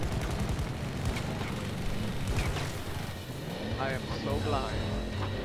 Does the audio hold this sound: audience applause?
no